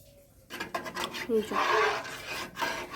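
Spoon stirring an arrowroot starch mixture in a pot, short scraping and rubbing strokes close up, with a voice talking over them.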